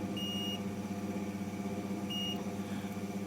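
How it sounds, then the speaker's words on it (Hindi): Multimeter beep while probing a capacitor during a repair of an oil-cooled automatic stabilizer: two short high-pitched beeps about two seconds apart over a steady, loud, humming background. "जैसे ये कैपेसिटर है, ये इस पे लगाएंगे तो बीप देखियो, ये बीप आई"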